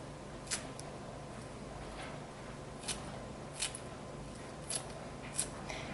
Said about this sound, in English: Now I'll have to use my scissors. I'm going to cut up the garlic chives